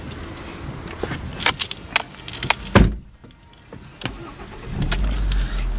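A Ford Focus car with about 97,000 miles and an engine warning light showing starts up. Clicks and a crank come first, then the engine catches and settles into a steady idle, close and loud, with no talking.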